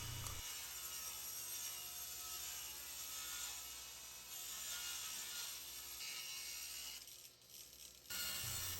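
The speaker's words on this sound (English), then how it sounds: "I'm going to start by ripping some of my scrap lumber to the thickness of the plywood." A saw rips scrap lumber with a steady, continuous whine and rasp that holds for several seconds, then drops away briefly before the cut resumes close by.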